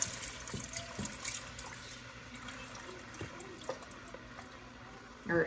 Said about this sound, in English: I'm gonna go ahead and pour in my chicken broth